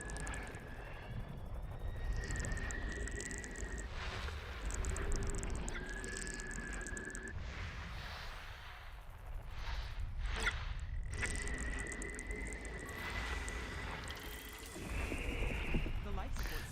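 Ambient sound effects of the FSS scanner mode in the space game Elite Dangerous: a steady airy wash with drifting tonal swells and occasional soft mechanical clicks, moderately quiet and continuous.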